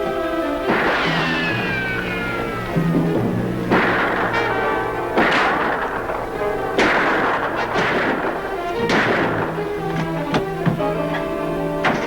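Gunfight in a 1950s TV western: a string of loud, reverberant gunshots, about five booming reports at uneven two-second intervals, each trailing off in a ringing echo, with no talk over them.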